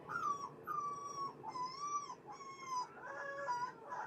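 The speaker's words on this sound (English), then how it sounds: "I hope you guys really like listening to puppies cry, because that's what this video is going to be, clearly." Puppies crying with high, wavering whimpers and yips, several overlapping in repeated bursts, close and fairly loud over a quiet indoor background.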